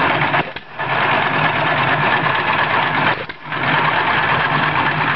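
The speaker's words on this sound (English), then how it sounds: "the John Deere engine runs this mechanism right here. Makes this pump work." John Deere engine driving the pump of a water-source heat pump, a loud steady mechanical drone running throughout with two brief dips, no talk.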